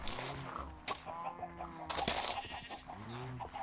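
Video game chickens cluck in short bursts over a steady farmyard ambience, with a few rising squawk-like calls scattered through.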